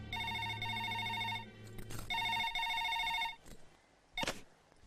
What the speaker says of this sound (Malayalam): ആ ഫോൺ എടുത്ത് കറക്കടാവേ